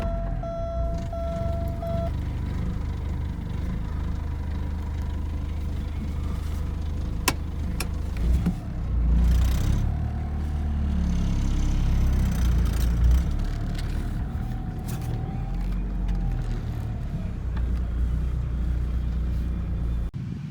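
A Porsche 944 Turbo engine hums at low speed, creeping and revving slightly as it drives up onto ramps, with faint beeping and a few clicks; no one speaks.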